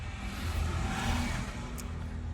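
A car rushes past nearby with a steady engine roar, a short pass-by with no voices.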